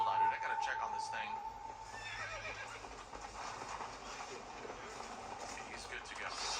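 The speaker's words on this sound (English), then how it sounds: "Is that my horse?" A horse whinnies in the Red Dead Redemption Undead Nightmare video game, a bright neigh over hoof clip-clop and a steady game soundscape, with someone talking over it.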